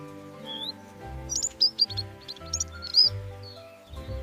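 A finch gives a series of quick, high chirps and short trills over a steady, faint, tonal background, with a few brighter bursts near the middle.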